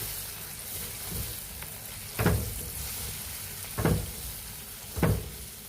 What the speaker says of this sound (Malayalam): കട്ട കെട്ടാതെ നമുക്ക് ഇളക്കാട്ടോ, ഇളക്കി കൊടുക്കാം വേഗം.